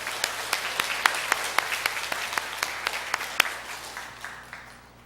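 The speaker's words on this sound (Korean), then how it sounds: "감사와 영광의 박수를 올려드립시다." A church congregation applauding during a Trinity Sunday worship service, with sharp, irregular claps that stay steady and then slowly thin out and fade, heard alone in a reverberant hall.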